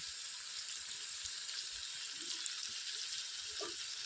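Onions with salt, ginger and garlic frying in a pan for a Malvani dried bombil curry make a faint, steady hiss with a few soft pops, with no voices.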